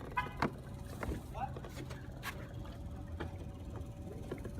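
A small electric kayak motor running forward in low gear on harbor water, a faint, steady hum under scattered knocks and splashes, with voices nearby.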